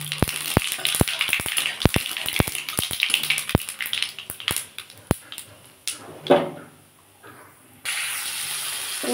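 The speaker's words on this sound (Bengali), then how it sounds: "ওই তেলের মধ্যে আমি একটু শুকনো লঙ্কা ফোড়ন দেবো আর একটু জিরে ফোড়ন দেবো।" Dried red chilli and cumin seeds hit hot oil for a Bengali-style green jackfruit kopta curry, giving close, irregular crackles and sharp pops over a steady hiss that thins out toward the end.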